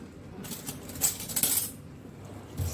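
A spoon clinks against a bowl while stirring custard powder and sugar into warm milk in a home kitchen, a short run of light metallic taps and scrapes, close and soft.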